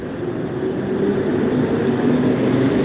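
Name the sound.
buses passing in the street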